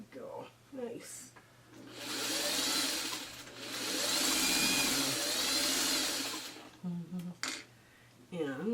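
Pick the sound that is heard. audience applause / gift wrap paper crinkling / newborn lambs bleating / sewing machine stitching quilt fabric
sewing machine stitching quilt fabric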